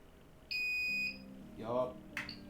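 A 3D printer gives a single sustained electronic beep, loud and steady for about half a second, followed by a brief spoken voice nearby in a room.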